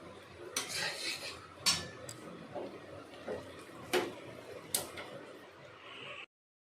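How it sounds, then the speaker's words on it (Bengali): Dal with butter being stirred in a pot, with scattered metallic clinks and scrapes of a spoon against the vessel at irregular intervals over quiet kitchen background, ending abruptly. "এটাতে আমি একটু বাটার দিয়ে একটু নাড়িয়ে চাড়িয়ে আমি এবারে এটাকে নামিয়ে নেব"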